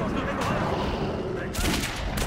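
Gunfire rattles out in bursts in the video game Metro 2033 Redux, a dense fusillade of shots with a heavier blast near the end, loud against faint background voices.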